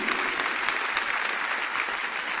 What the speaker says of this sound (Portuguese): uma forte salva de palmas para Jesus